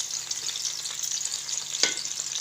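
Ginger and garlic paste frying with onions in a pan for an Indian chicken and capsicum curry, a steady close hiss of sizzling oil with a few soft stirring clicks and no talking.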